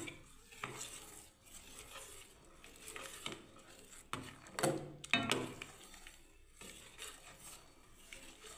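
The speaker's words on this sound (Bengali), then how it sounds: "এবার আমি একটু ঘেটে দিচ্ছি ভালো করে।" Vermicelli payesh with cardamom powder is stirred in a pot, giving soft scraping clinks of a spoon against metal in irregular bursts, louder around the middle, with no talking.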